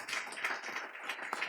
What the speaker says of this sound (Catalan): T'has guanyat l'aplaudiment